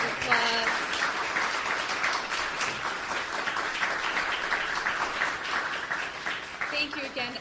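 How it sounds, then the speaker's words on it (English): Concert audience applause fills the room after a jazz performance, a dense sustained clapping that stays loud and even throughout, with a few faint voices mixed in. "one more round of applause."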